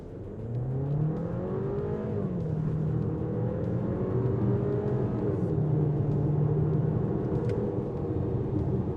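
A 2026 Volkswagen Tiguan Turbo SUV accelerates hard from 0 to 100 km/h, its engine drone climbing steadily in pitch with brief dips at gear changes, a smooth continuous rumble heard from inside the cabin.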